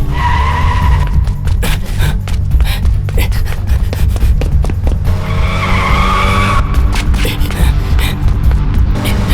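A car tears away at speed in a movie action scene, tires skidding and squealing over a loud, sustained engine roar, with rapid scraping bursts throughout.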